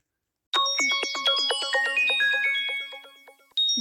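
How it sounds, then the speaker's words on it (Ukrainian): A telephone ringtone plays a quick, bright melodic pattern of chiming tones, loud and close, then stops and starts again. "Діти, хто це нам телефонує?"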